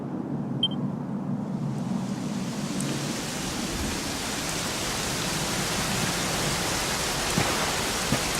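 Steady rain in the video game Dragon Quest XI pours down, a dense, even wash of patter that keeps going without a break.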